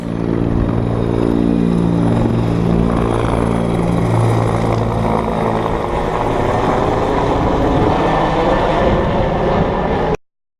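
A propeller airplane passes low overhead above a small town, its loud, steady engine drone and rumble filling the whole stretch before cutting off abruptly, with no talking.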